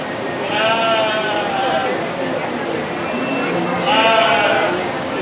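Sheep bleating repeatedly in a livestock show barn, loud, close cries in two long bursts with a crowd murmuring and a voice talking underneath.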